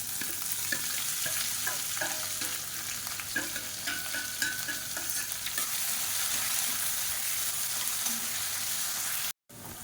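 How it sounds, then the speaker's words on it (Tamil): Chopped large onions sizzle and fry in a pan with spices for a village-style chicken rasam, a steady close hiss broken by occasional stirring scrapes, then a brief dropout near the end. "வெங்காயம் நல்லா வதங்கிருச்சு"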